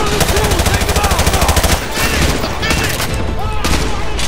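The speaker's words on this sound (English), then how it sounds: "We are taking heavy fire from the school." Heavy automatic gunfire from a Call of Duty Modern Warfare 2 campaign firefight near a school, dense rapid bursts rattling continuously and loudly, with a brief lull midway before the shooting resumes.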